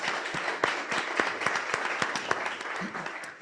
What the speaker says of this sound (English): Give him an applause,